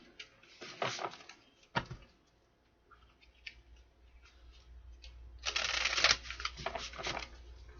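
Tarot cards are shuffled in a few quick riffling bursts, with quiet pauses and light tapping between them, close to the listener.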